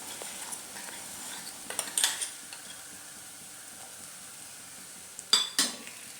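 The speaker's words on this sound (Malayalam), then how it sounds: "നമുക്ക് തേങ്ങ നന്നായിട്ടൊന്ന് വറുത്തെടുക്കണം." Grated coconut roasts in a pan for a mackerel curry: a soft, dry sizzle with quiet stirring, broken by a few metallic spatula scrapes and clinks, with no one speaking.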